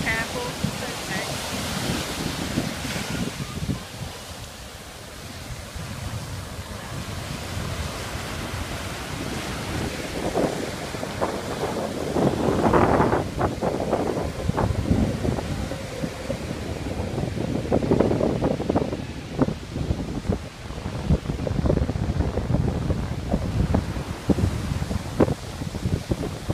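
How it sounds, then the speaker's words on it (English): Choppy surf breaks on a windy Dominican Republic beach at the Iberostar Bavaro resort, a steady roar of waves mixed with gusts buffeting the microphone throughout, swelling louder midway. "it's been a bit windy, so it's made the waves a little bit on the chopper side"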